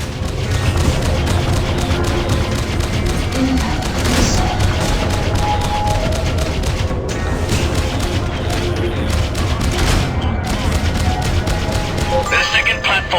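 Turret fire from a platform pounds steadily through a space battle in the video game Freelancer, a dense, continuous fusillade of rapid shots with occasional sharper blasts, loud and unbroken throughout.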